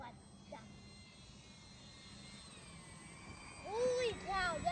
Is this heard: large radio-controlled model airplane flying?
yes